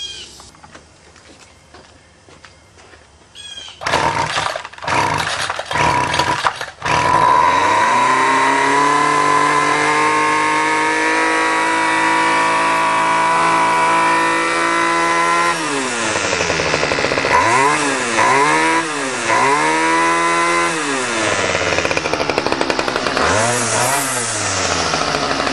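A two-stroke weed eater engine is pulled over a few times, then catches and runs loud and close, revving up and down repeatedly with a buzzing, rasping drone and no talk.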